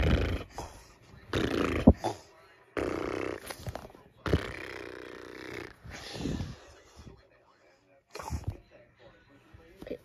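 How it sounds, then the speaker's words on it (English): A snoring sound, said to come from a shoe, in several wheezy, snorting bursts spread across the span, broken by pauses and mixed with voices. "Did that shoe just snore?"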